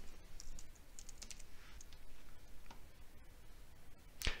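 Quiet typing on a computer keyboard, soft scattered key clicks at an uneven rhythm, ending in one sharper click.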